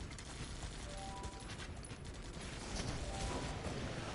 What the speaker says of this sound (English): These are machine gunners, I think.